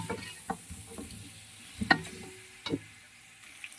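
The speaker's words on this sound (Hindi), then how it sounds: "3 से 4 मिनट के लिए ऑयल के साथ इसको फ्राई करेंगे।" Boiled chicken pieces frying in oil with garlic and ginger for a Punjabi chicken pulao, heard as a faint, low sizzle broken by a few sharp spatula scrapes and knocks against the pan.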